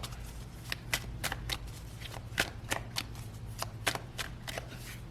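Tarot cards being shuffled by hand: a steady run of crisp riffling snaps, close and moderately loud, over a low background hum.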